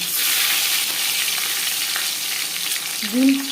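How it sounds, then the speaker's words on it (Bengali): Egg sizzles in hot oil with salt in a kadai for egg khichuri, a steady crackling fry with a short tonal scrape of a utensil near the end. "এবার দিয়ে দেবো ডিম।"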